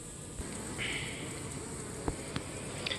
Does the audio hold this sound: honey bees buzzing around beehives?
yes